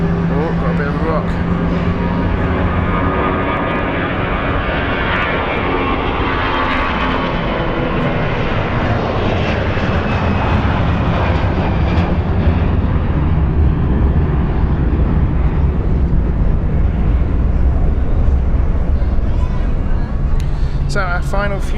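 At Zurich Airport, a departing airliner roars loudly and continuously, its engine rumble building and shifting in pitch as it passes, with a voice talking over the noise.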